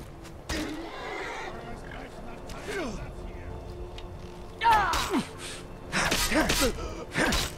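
Horse in the video game Skyrim neighing repeatedly in loud whinnies over steady in-game background sound, with scattered hoof clatter as it runs off.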